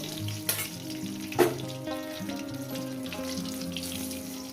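A hilsa fish head sizzles steadily in oil in a kadai, heard close up under a constant bed of tonal background music, with a couple of brief louder clatters.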